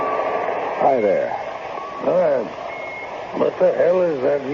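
A pocket alarm watch beeps in an old radio drama, a thin electronic tone running steadily beneath a voice, with a brief higher beep partway through, the talking louder than the alarm throughout.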